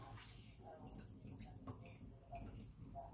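Water trickles and drips faintly from a wet sheet of kitchen roll wrung out by hand, heard close up as quiet, irregular dribbles and splashes.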